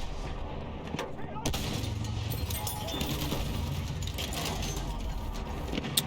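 Sniper rifle shots in the video game Battlefield 1, a sharp crack standing out near the start above a steady bed of battlefield noise, with a few fainter shots later.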